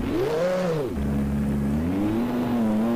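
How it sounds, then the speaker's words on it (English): A race car pulls out of the pits at the Aida circuit in Japan in 1994, first gear engaged and the pit-lane speed limiter on. Its engine note swells, dips at a shift, then climbs steadily, loud and close with no talk. "And now let's leave the pits"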